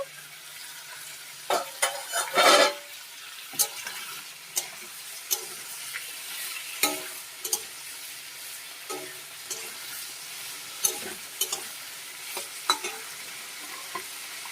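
Pumpkin and potato curry cooking in a pan, a soft sizzle under repeated spoon scrapes and clinks, with one louder burst of rustling movement early on, close and without talking.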